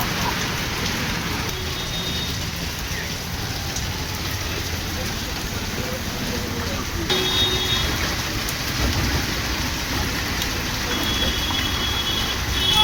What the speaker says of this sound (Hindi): हिसार में गरज चमक के साथ तेज बारिश।